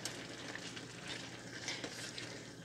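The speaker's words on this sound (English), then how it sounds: "Stir it up." Leftover food stirred in a hot pan: a soft, continuous sizzle of frying with light scraping strokes of the utensil, quiet and close, with no talking.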